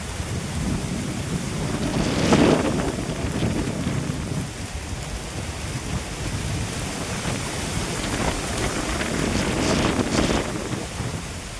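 Strong wind in misty hill country roars and buffets the microphone steadily, with a rain-like wash and a couple of louder gusts swelling through.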